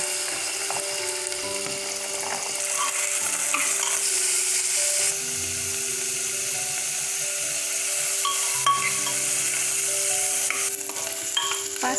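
Mixed vegetables stir-fried in a pan for veg pulao, a steady moderate sizzle with intermittent scraping stirs and light metallic clinks over twelve seconds, no speech.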